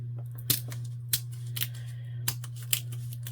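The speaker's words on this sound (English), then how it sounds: "I'm going to cut real light because I don't want to go through the whole thing" Scissors snip lightly through a junk journal cover in several separate, crisp cuts, close and clear over a steady low electrical hum.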